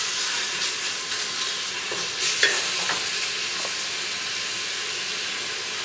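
Bacon sizzles and fries steadily in a pan, a continuous close hiss with a few soft scraping clinks as it is stirred, no voices over it.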